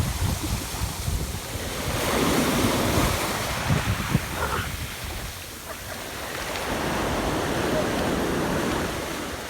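Waves wash onto a sandy beach in Gibraltar, surging and receding in broad swells with wind buffeting the microphone, loud and close.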